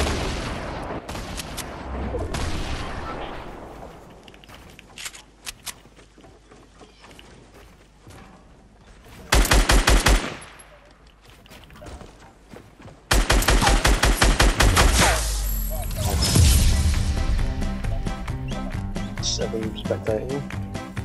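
Fortnite gunfire crackles in bursts: scattered shots early, then two dense loud volleys of rapid fire later on, close and sharp, with a player talking in between.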